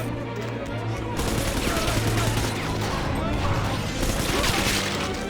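Heavy rivets fired from a rivet gun in BioShock, a dense barrage of rapid metallic bangs and crashes over a steady low game hum, loud and continuous throughout.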